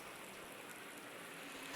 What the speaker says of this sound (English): raining like there's no tomorrow.